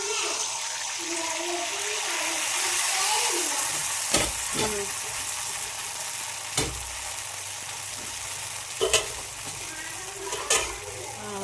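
Neyyappam, a sweet fried snack, sizzling steadily in hot oil in a home kitchen, with a constant bubbling hiss and a few sharp clinks of a utensil against the pan.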